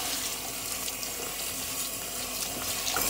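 Tap water runs steadily over two cups of wheat grains being washed in a bowl, a continuous close splashing gush with small sloshing shifts and no speech.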